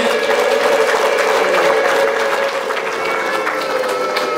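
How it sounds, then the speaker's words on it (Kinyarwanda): An audience at a jubilee celebration claps and ululates loudly and continuously, a dense crowd roar close up that eases slightly toward the end. "Mwongere mu mpera amashyi n'impundu."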